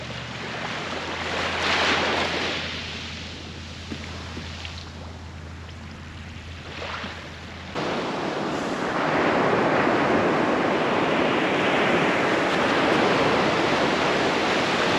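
Ocean surf washing onto a beach at night, a continuous broad roar of waves that swells louder partway through, with wind buffeting the microphone.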